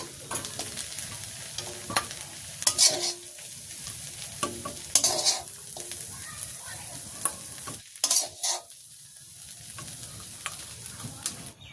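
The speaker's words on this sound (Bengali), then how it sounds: "শাকটা আমার ভাজি হয়ে গেছে, সুন্দর করে ভাজি করে নিলাম" Leafy greens with crab stir-fried in a pan for a village-style Bangladeshi meal, a spatula scraping and stirring in bursts over a steady close sizzle of frying oil.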